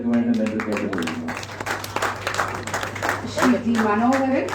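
Audience applause at an Indian sports award ceremony as players are introduced. Steady, moderately loud clapping runs under an announcer's amplified voice throughout.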